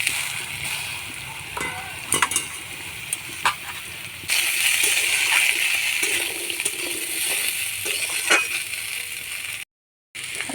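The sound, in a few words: potatoes frying in hot mustard oil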